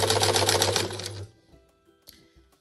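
A sewing machine stitches fabric for a boxed tote bag, giving a loud, close, rapid mechanical whir for about a second before stopping, followed by a few faint clicks and handling sounds.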